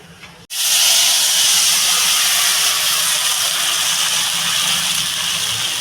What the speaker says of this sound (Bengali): আমি এবার কড়াইতে জল দিয়ে দেবো